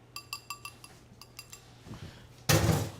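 Eggs are whisked in a bowl for a sweet potato pone, heard as a quick run of bright metallic clinks of whisk against bowl, then a short pause before a louder burst of clattering.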